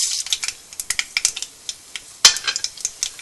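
Mustard seeds and urad dal hit hot oil in a pan, giving a close run of sharp, irregular crackles and pops with brief sizzling between them and one louder snap, with no talking.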